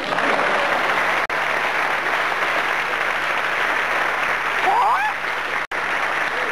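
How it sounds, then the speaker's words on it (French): Studio audience applause on a 1991 French television game show, a dense sustained wash of clapping that fills the whole stretch at steady loudness, with a brief whistle-like tone rising through it near the end. "vos applaudissements me vont droit au cœur"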